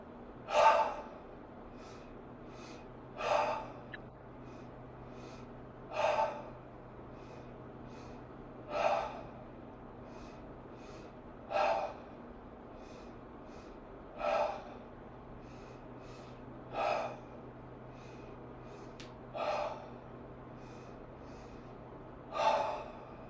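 A rapid breathing exercise, the breath of exhilaration, done in rounds: about nine sharp, forceful breath bursts evenly spaced every two to three seconds, close and clear over quiet room tone.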